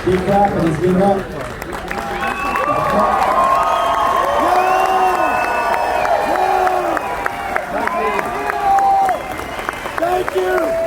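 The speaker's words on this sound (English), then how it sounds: "clap and let's give it up." A crowd at a People's Convoy rally cheers and applauds, with dense clapping, shouts and whistles mixed in and voices calling out over the noise throughout.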